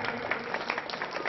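A school event audience applauds in a brief, dense burst of clapping from many hands, with no pause throughout.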